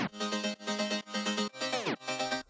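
A square-toned synth chord layer from the Stella sample pack, made in FL Studio, pulses in quick, steady rhythmic stabs with one chord sliding down in pitch before the pattern resumes, loud and unaccompanied.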